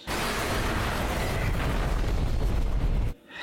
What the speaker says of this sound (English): Explosion of light.